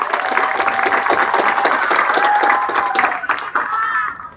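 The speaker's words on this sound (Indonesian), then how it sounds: "Tepuk tangan untuk Indonesia." An audience at an Indonesian gathering on kiai, santri and pesantren claps together, a dense, lively wash of applause with some cheering that holds steady, then thins and fades toward the end.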